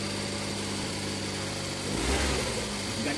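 A Suzuki K6A engine in a DA64V van, with a new throttle position sensor fitted after a failed compression test, runs steadily at a low idle, then surges louder as it catches and revs about two-thirds through.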